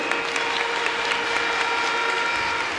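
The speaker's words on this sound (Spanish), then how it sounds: "con este tremendo aplauso que pido para todos" Audience at a school cueca dance contest giving a big round of applause, dense continuous clapping throughout with a few sharper claps standing out, no talk.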